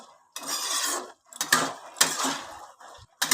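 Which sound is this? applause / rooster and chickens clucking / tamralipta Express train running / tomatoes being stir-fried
tomatoes being stir-fried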